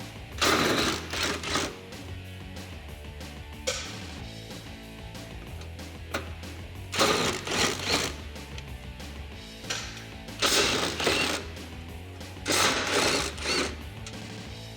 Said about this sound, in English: So grab a 13mm socket, and you may want an extension. Go ahead and get these removed.